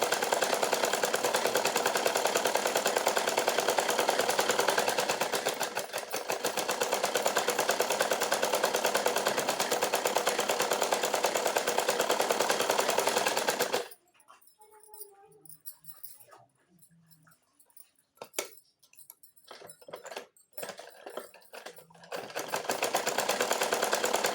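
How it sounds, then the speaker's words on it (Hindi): A sewing machine double-stitching a plain blouse runs loud and continuous for about fourteen seconds, then stops, leaving quiet handling clicks before the motor starts up again at the end. "हम इसमें डबल सिलाई लगा लेंगे ताकि कभी खोलना पड़े तो आसानी रहे।"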